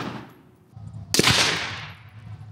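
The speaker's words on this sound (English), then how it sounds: "And we're going to shoot the steel first." Frangible ammunition fired at a steel target, one sharp gunshot crack with a broad loud burst and a ringing decay, standing out over low background rumble.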